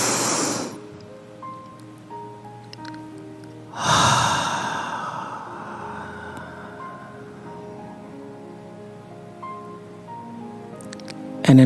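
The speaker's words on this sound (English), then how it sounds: "And another inhale." A deep inhale during a guided breathing exercise: two broad, breathy rushes of air, one at the start and another midway, over soft sustained musical tones.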